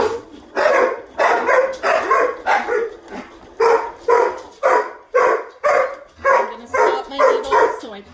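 Pet dogs bark over and over up close, around a dozen loud, evenly spaced barks in quick rhythm with no talk.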